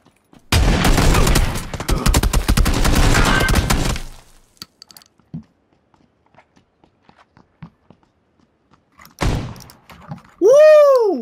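A rapid, loud burst of gunfire rattles for several seconds in PUBG, then gives way to sparse footsteps and quiet before another short burst of shots.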